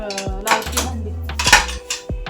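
Dishes and cutlery clatter and clink close by as they are put away in a home kitchen, several sharp knocks and scrapes spread across the moment with a low hum underneath.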